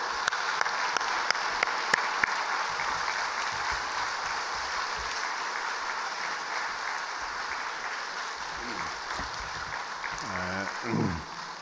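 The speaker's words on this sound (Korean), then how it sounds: "감사의 박수 우리 주님께 올려드리도록 하겠습니다" A church congregation at a Sunday worship service claps steadily in sustained applause, a broad wash of many hands, with a voice briefly audible near the end.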